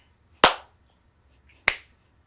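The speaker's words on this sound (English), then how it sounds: "Maybe we should clap at the end to sync them." Two separate sharp hand claps mark the sync point of a podcast recording, each a single crisp, close, loud smack in a quiet room, about a second apart.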